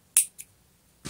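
Scissors snip through knitting yarn in a finger-knitted Santa hat project, a sharp close cut followed by a softer second snip and another crisp cut, with no talking.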